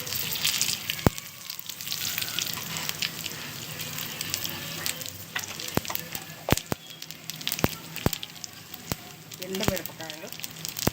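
Tempering seeds fry in hot oil in a pot for lemon rice, making a continuous sizzle punctuated by sharp, irregular popping cracks, with a voice talking faintly underneath.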